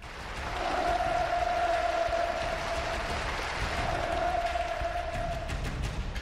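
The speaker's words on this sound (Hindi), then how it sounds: "किम की पार्टी के हाई प्रोफाइल वर्करों का ऐसे लगातार तालियां बजाना" A large hall of high-profile ruling party workers at a North Korean Workers' Party gathering keeps up continuous thunderous applause, a dense, loud, unbroken roar of clapping with a faint sustained tone running through it.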